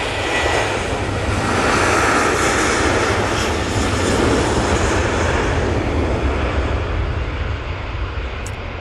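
A Jet2 passenger plane, the "Grey Lady", takes off from Manchester Airport bound for Corfu, its engines a loud, sustained broadband roar that holds steady and then slowly fades as it climbs away.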